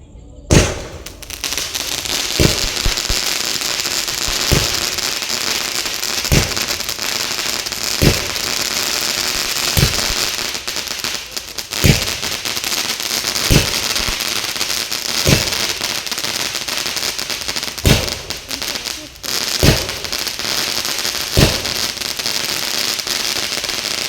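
Firecrackers burst at night during Vishu celebrations: sharp loud bangs repeat roughly every two seconds over a continuous crackling hiss from nearby fireworks.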